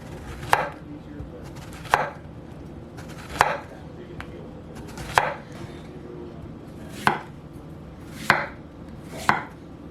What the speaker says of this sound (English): All I'm going to do is cut this into discs.